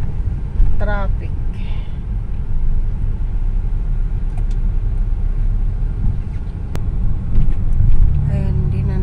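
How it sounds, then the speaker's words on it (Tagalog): Traffic on a rural provincial road in Khon Kaen, Thailand, a constant low rumble of engines and passing vehicles, heard from inside a car with a voice talking over it. "hindi na natapos ang traffic guys"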